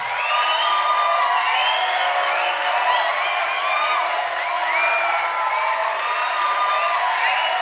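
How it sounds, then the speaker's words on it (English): A church audience applauds and cheers, a constant crowd roar filled with rising whoops and shouted cheers over background clapping, loud and unbroken throughout. "Round of applause for that, please."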